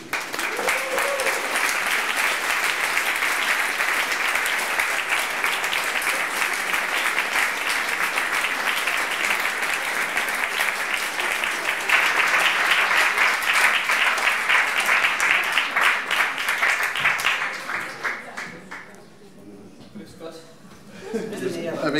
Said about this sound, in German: Mit großem Applaus begrüßen Sie Timur Wermisch.